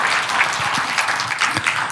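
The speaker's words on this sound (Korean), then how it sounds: "여러분 박수 한번 쳐주십시오" Audience applause at a Korean political rally, a dense continuous wash of many hands clapping at steady loudness, fairly close, with no voices standing out.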